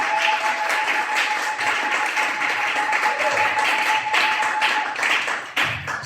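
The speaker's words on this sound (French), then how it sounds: "J'aimerais entendre vos acclamations." Church congregation cheering and applauding during a sermon, a dense continuous wash of clapping and shouts filling the room, loud and sustained throughout with a faint tone running underneath.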